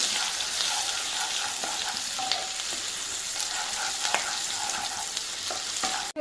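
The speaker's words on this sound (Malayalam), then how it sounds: "ഒരു അരമുറി ക്യാപ്സിക്ക ചേർത്ത് കൊടുത്തിട്ട് ഒരുപാട് മൂക്കണ്ട ഒരു ഒന്ന് വാടിയാൽ മതി" Capsicum sautés in a pan for prawn paneer butter masala, giving a steady, close sizzle with faint scrapes and clicks of stirring and no talking.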